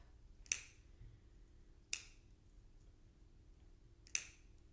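Scissors snip sequins out of the seam allowance of a sequin skirt, giving three sharp, isolated clicks spaced a second or two apart, close and crisp against a quiet room.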